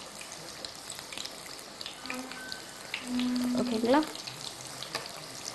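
Vada frying in hot oil gives a soft, steady sizzle with a few stirring and scraping sounds. A person briefly speaks over it.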